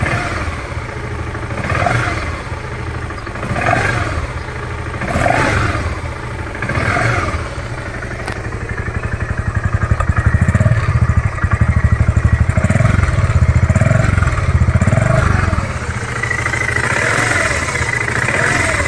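A 2014 BMW G 650 GS motorcycle engine runs steadily close by, a low idling rumble with a few periodic surges and a rougher, louder stretch in the middle.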